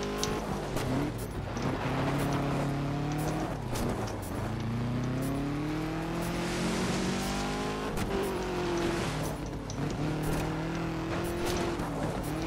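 A rally car in the Colin McRae Dirt 2 video game drives hard, its engine revving and shifting through rising and falling pitches in a loud, continuous drone with no talking.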